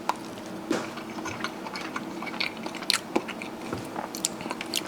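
Tender pork adobo with rice is eaten up close, with soft bites, wet chewing and small crunchy clicks repeating steadily, quiet and without talk.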